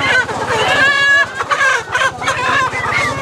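Chickens at a large farm produce market in Laos, loud close clucking and a crowing rooster, busy and overlapping over about three seconds.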